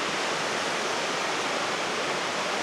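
Steady broadband rush of water pouring at a big water wheel in a quiet rural North Carolina town, constant and fairly close with no voices.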